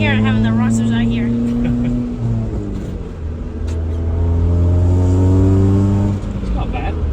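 A Honda CRX HF idles and revs with a loud, droning exhaust, pitch rising and falling through the clip while people talk nearby.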